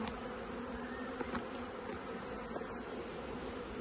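A dense, continuous buzzing of many swarming honeybees close by at a hive, a steady droning hum with occasional louder passes.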